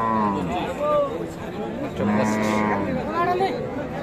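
Desi dairy cows with calves at Raniganj cattle market in Dinajpur give several loud, drawn-out moos, close by, over a murmur of crowd chatter.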